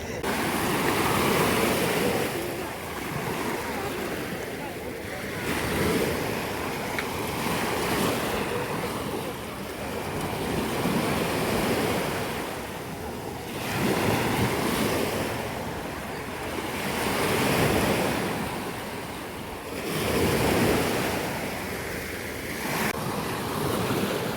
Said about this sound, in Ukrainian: Я так люблю в Чорноморську гуляти саме вздовж моря.